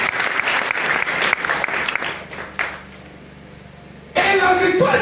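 A church congregation at a Sunday worship service breaks into dense applause and cheering, loud and close, fading into a lull before surging back in a sudden burst at the end.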